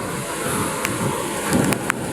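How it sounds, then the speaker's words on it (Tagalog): Steady roar of strong wind buffeting the microphone with rain noise on a coast with big waves, a few brief louder gusts or drops standing out, no talking. "malakas ang hangin guys malakas ang ulan"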